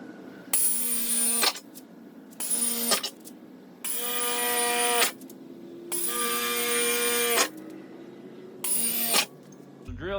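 A hole saw cutting into the body of a 2015 Nissan Frontier Pro-4X for a snorkel install: a whining drill motor in five separate runs of a second or more, with short pauses between, close and with no talking.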